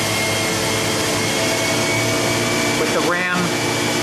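A 2003 Okuma MCR-B II 20/40 CNC vertical machining center spindle running at 8,000 RPM makes a steady, loud mechanical whine, with someone talking briefly over it.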